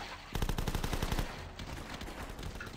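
Rapid gunfire from The Last Stand video game, a burst of fast automatic shots that starts abruptly, then settles into a quieter, denser rattle of continuous firing.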